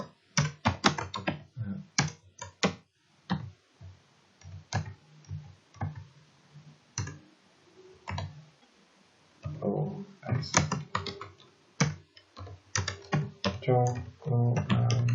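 Fingers type on a computer keyboard while an internship report is written, with irregular bursts of crisp, close clicks, short pauses and a denser flurry of keystrokes near the end.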